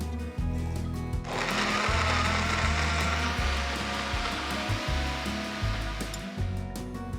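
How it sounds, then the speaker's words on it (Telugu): A kitchen blender whirs loudly as it purees ripe mango pieces with milk for mango sharbat, starting with a sudden surge and holding a steady, close grinding roar for several seconds. "ఇక్కడ మనం మామిడి పండు ముక్కల్ని బ్లెండ్ చేసుకోవడం కోసం పాలు పోస్తున్నాము"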